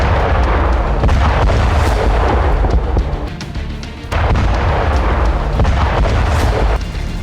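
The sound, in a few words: loud explosion from drone bomb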